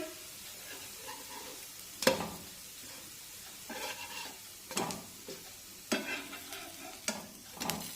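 A cabbage pancake fries in a pan, with a steady soft sizzle under repeated close scrapes and presses of a spatula against the pan, no talk.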